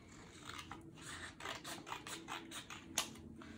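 Scissors snipping through paper strips for a woven paper bag, a faint close series of crisp rhythmic cuts and rustles, roughly a dozen snips in quick succession with no talk.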